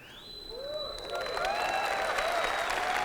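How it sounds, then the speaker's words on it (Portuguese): Audience applause at a talk on spirituality and fundamental rights, building from quieter clapping into a fuller steady round, with a whistle-like tone and a few voices rising over it. "esse aplauso de vocês, eu agradeço"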